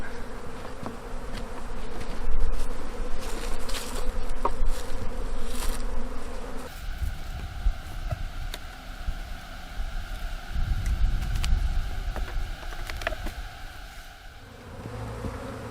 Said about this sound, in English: There's a lot of bees on this box